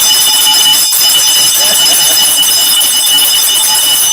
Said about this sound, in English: I have the bell back